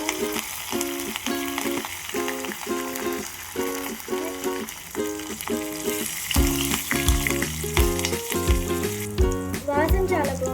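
Green chillies, curry leaves and turmeric sizzle in hot oil in a pan, a steady frying hiss running under loud rhythmic background music for the whole stretch.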